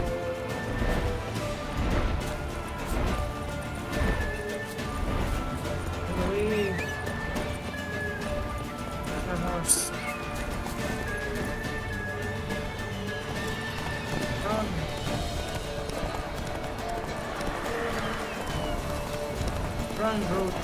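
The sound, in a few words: horse Roach galloping, from video game Witcher 3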